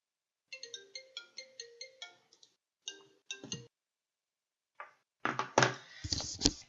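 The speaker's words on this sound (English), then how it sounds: "Sorry, got a phone call there." A phone ringtone plays a repeating electronic melody in short evenly spaced bursts, pauses, then returns with louder, denser ringing at the end, with no talking.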